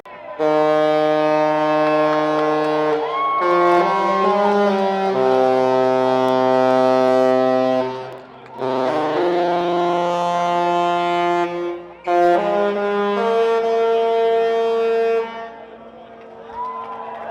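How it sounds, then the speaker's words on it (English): The deep horn of the cruise ship Sun Princess sounds in sustained, loud blasts that change pitch between notes, playing a slow tune in several long phrases separated by brief breaks. "Wanted to share them hitting the horn real quick"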